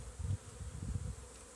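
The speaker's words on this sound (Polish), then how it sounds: "Na poidle też są pszczoły. Pobierają wodę." Low buzzing of honey bees hovering close by at a water feeder in an apiary, a steady droning hum that swells and fades in soft pulses, with no voices.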